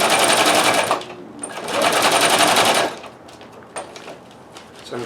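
A Techsew 611 walking foot industrial sewing machine with a Consew servo motor stitches in two loud, rapid, close bursts, with quieter clicks and handling noise between and after.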